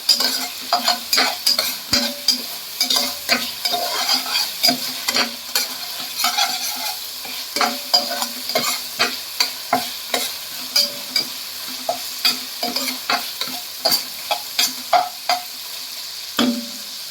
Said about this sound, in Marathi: आणि खडे मसाले पण थोडे आपण परतून घेऊया.